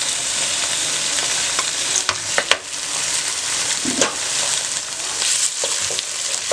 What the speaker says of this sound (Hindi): प्याज हल्का सा फ्राई हो गया, अब इसमें चिकन डालूंगी।